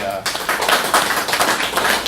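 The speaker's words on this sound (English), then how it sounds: "So I want to go ahead and give a round of applause for the" An audience at DrupalCamp Florida breaks into applause, a dense, loud wash of many hands clapping that starts abruptly and keeps going evenly.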